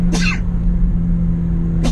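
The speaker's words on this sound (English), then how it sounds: "I'm about to sneeze right now" A man sneezes sharply inside a car at a car meet, one abrupt burst followed later by a second short sneeze-like breath, over a steady low engine hum.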